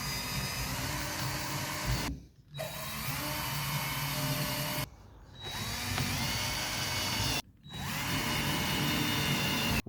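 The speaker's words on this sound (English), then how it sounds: "those holes I've drilled either side of the joist show perfectly where the joist is" Power drill boring holes into a lath and plaster ceiling, three long, loud, steady whining bursts separated by brief pauses, close by and with no talking.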